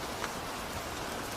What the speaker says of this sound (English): it's raining and it's really terrible in here